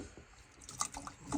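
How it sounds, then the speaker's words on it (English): Water is poured down a laundry room floor drain in a home, giving faint splashing and dripping with a few small, irregular drops and trickles, quiet and close. "So I went ahead and got some water to pour down this drain"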